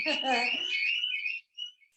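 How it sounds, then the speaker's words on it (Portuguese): Building alarm going off indoors, a shrill high-pitched electronic tone heard close and loud, sounding alongside a speaking voice before cutting off into brief chirps. "o alarme do prédio, desculpa. A camada 3 de ascensão, deixa eu desligar esse alarme aqui"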